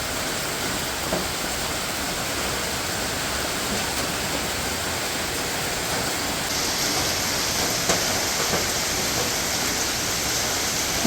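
Heavy rain pours down in a constant, loud, broadband hiss that stays even throughout, with no voices over it.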